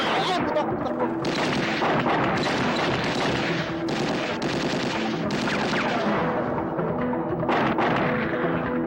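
Gunfire in a Filipino comedy film scene, dense bursts of shots and booms that fill the whole clip with little pause.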